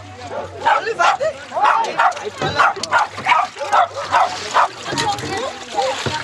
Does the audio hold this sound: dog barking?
yes